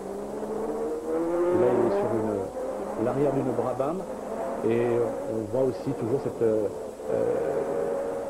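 Ayrton Senna's turbocharged Formula 1 car accelerates hard, heard from onboard as a loud, rising engine drone with pitch sweeps, partly under a commentator's voice.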